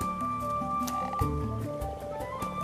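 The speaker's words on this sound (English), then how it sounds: "And the common frogs feel spring fever too." Common frogs croaking in shallow spring water at their spawning site in Iceland, a steady chorus of overlapping low croaks with a few louder calls nearby.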